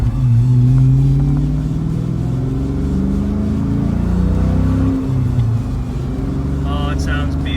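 A 1996 Ford Mustang Cobra with its 4-valve engine revs loudly up and down at close range, its deep rumble rising and falling in several swells while driving.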